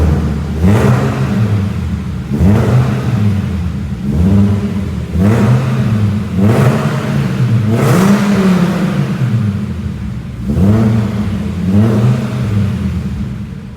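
A Fiat Marea's engine revs repeatedly through a rebuilt non-original exhaust, rising and falling in about seven close, loud bursts with a rumbling tone between them, no voices.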